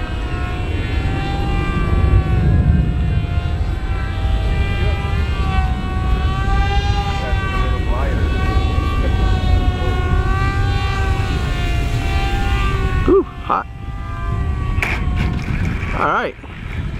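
The rebuilt Hobbyking Yak 54 30e 1280mm electric RC model airplane comes in to land with a steady, high-pitched motor whine that wavers in pitch as it passes close by. People talk over it, and there are some handling clatters near the end.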